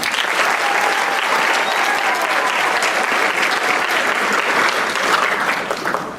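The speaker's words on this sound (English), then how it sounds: "Can you please give them one more big round of applause?" A theater audience at the Miss Cinderella final gives the judges a big round of applause, dense steady clapping that stays loud and even throughout before easing slightly at the end.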